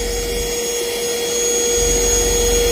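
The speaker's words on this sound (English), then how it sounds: "When we start our vacuum, still got down pressure." Vacuum seed meter on a sweetcorn planter starting up, giving a loud, steady mechanical whine with a constant hum that holds and builds slightly, close by with no talk.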